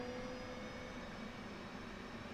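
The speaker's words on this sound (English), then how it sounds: "That means that the right engine is up and ready. It's running." The right engine of an F/A-18C Hornet in the DCS flight simulator hums at idle after start-up as a faint, steady jet whine with a constant low drone, heard alone.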